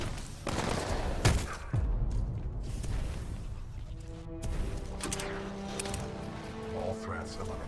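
Gunfire in Titanfall 2 erupts as a loud crash and a quick volley of shots, followed by ringing tonal effects and a softer spread of distant fire, with voices speaking over the action.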